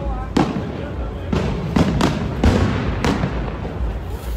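New Year's Eve fireworks and firecrackers go off repeatedly, with several sharp bangs spaced unevenly over a constant loud roar of distant explosions.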